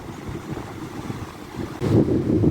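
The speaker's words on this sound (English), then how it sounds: "The waves keep pounding into the shore." Waves pound onto the shore at Aberdeen, a broad low roar of surf mixed with gusty wind buffeting the microphone, swelling louder toward the end as a heavier wave breaks.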